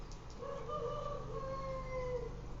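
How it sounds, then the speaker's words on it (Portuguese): A rooster crows outdoors in one long drawn-out call with sustained harmonic tones, set against a steady low background hum. "tem um galo cantando."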